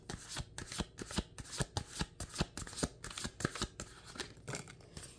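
A Pagan Cat Tarot deck is shuffled and cards are drawn close by, giving a quick run of crisp, papery riffles and flicks in a steady rhythm with no talking.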